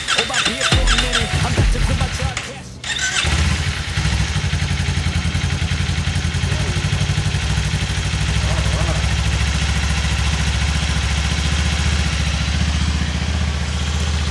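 A brand-new Kawasaki Ninja 500 motorcycle engine fires for the first time with a loud clattering start, then settles into a steady, even idle close up.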